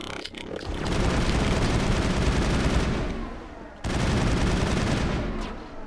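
Weapon fire in the video game Mass Effect, a loud continuous fusillade of rapid shots that cuts out briefly partway through, then resumes at full intensity.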